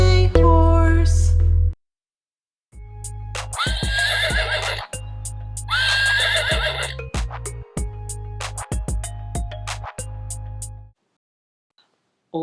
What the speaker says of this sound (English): I'm a neigh neigh horse.